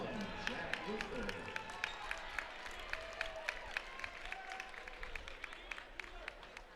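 Crowd at a high school boys basketball game clapping in sharp, scattered bursts, with a commentator talking over the applause in a gym.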